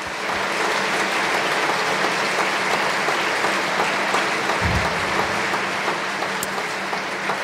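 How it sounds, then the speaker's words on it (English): Sustained applause from a large conference audience at a closing ceremony, dense and steady clapping throughout with no pauses. "continue applauding first"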